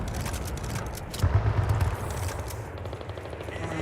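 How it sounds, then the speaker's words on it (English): A squadmate fires a rapid burst of gunfire in Battlefield 6, a quick run of shots mid-clip over steady battlefield noise, moderately loud and not under talk. "Your guy will shoot at him, but not hit him"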